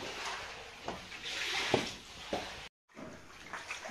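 Water floods into a house and leaks through after days of heavy rain, a close steady splashing rush with a few sharp knocks and a brief cut partway through; no talking.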